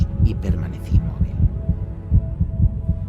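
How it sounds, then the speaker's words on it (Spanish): A heartbeat pounds in steady, rhythmic double thumps, low and throbbing, repeating about twice a second, with a faint voice at the very start. "Pero el latido crecía cada vez más fuerte, más fuerte."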